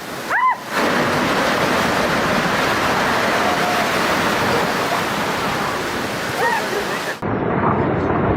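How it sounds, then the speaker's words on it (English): Floodwaters surge through a car dealership during severe flooding, a loud, steady roar of rushing water that carries on for several seconds before cutting off abruptly. "floodwaters sweep through a car dealership during severe flooding"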